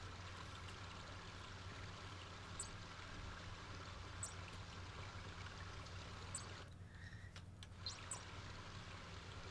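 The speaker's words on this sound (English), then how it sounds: "There's sound effects in this game. You can hear the river." A river flows in the 1990 game King's Quest V, a faint, steady rushing wash with a low hum beneath and a few soft chirps.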